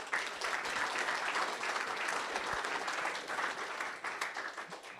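Audience applause at the close of a talk at a professional meeting, a sustained dense wash of many hands clapping at steady loudness for several seconds, with no voices over it.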